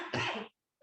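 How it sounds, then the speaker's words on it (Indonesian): A single short cough from one man, close and abrupt, about half a second long, followed by a brief pause and the start of another sound. "lagi batuk"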